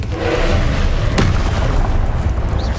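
Confringo spell blast in Hogwarts Legacy, a loud booming explosion with a deep rumble and one sharp burst in the middle, amid dense, continuous combat noise.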